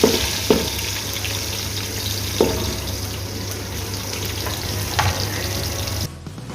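Steady, loud sizzling of sliced onions and green chillies in hot oil, with a few sharp clinks of a utensil against the pan, cutting off abruptly near the end.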